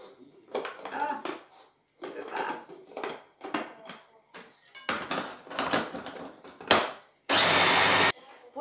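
A kitchen blender runs in one short, loud burst as it mixes a pesto of mizuna cabbage and pine nuts, after a stretch of French speech with some clattering.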